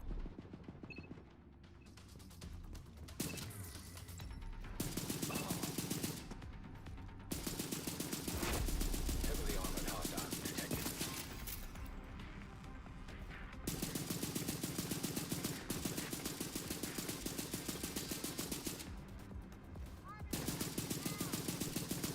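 Repeated bursts of rifle fire in the shooter The Division 2, loud and sustained, with several rapid volleys separated by brief pauses over about twenty seconds and busy combat noise around them.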